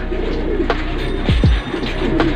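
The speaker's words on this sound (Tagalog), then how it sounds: "Ito na mga kalapati, dumating na rin yung isang ibon natin, si Dalubasa." Racing pigeons coo at their home loft after returning from a race released at Pasacao, Camarines Sur. A few low, sliding coos sound close by against steady background noise.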